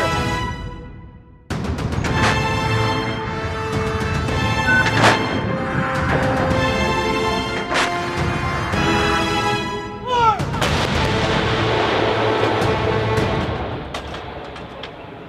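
Artillery guns fired by Marines send out a series of loud, booming shell blasts, each followed by a long rolling echo, with some heavy reports close together over about fifteen seconds.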